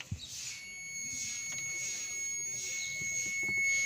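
A steady high electronic tone from a multimeter on continuity test while probing a vehicle's throttle body and ECU pins, held continuously for several seconds at moderate level.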